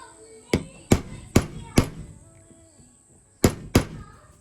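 Sharp metallic hammer strikes on a punch while making a timber circle jig ring out: four quick blows, a pause, then two more, each crisp and close with a short ringing decay.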